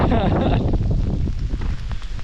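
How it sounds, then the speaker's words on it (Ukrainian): Strong wind blowing on the Southern Bug river during a fishing trip as a storm approaches, loud low buffeting rumble on the microphone with some rustling, briefly and up close. "вже вітер сильний, дощ іде"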